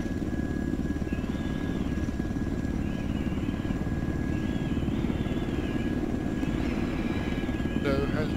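A helicopter in a military video game makes a constant, loud rotor and engine drone throughout, with a faint wavering higher tone on top and players talking over it.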